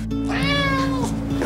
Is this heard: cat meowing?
yes